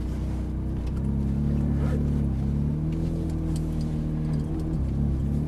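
Ferrari 458 Italia pulling away slowly, a close, steady low engine drone with gentle rises in pitch as it rolls forward.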